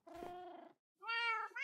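Two distinct cat meows from Minecraft Siamese cats after breeding: a short first call, a brief pause, then a longer, brighter second meow, close and clear with no other sounds.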